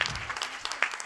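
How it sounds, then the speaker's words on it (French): Short burst of audience applause at a workplace wellbeing debate, scattered bright claps over a soft wash of hands, fairly close and lively. "Donc là, on peut l'applaudir"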